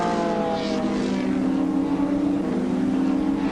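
Racing cars on a hill track, a Lotus and a 1977 Triumph TR7 battling for position, give a steady, loud engine drone that holds throughout at close range with no voices.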